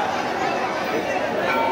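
Dense crowd of devotees chattering inside a temple complex during the Maa Nanda Sunanda festival, a steady, loud wash of overlapping voices with no single speaker standing out.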